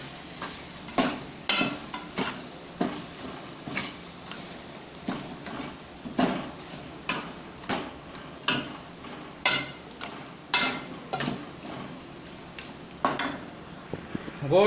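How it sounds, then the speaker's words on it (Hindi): A spoon stirs meat through tomatoes in a cooking pot, giving steady rhythmic scrapes and knocks against the metal over a soft sizzle, with no talking. "अभी ये गोश्त भी इसमें डाल देंगे और ये तकरीबन उसको मिक्स करेंगे"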